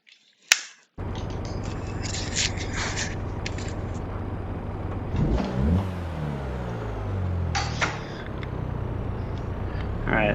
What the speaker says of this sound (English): It's just an SR20 with a disco potato, I believe making like 300 horsepower